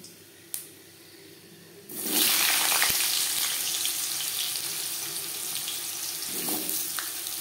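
Peeled, cut potatoes dropped into hot oil already holding a bay leaf and five-spice tempering for a rui fish curry, bursting into a loud, sustained sizzle after a short quiet stretch with a small clink, continuing steadily throughout.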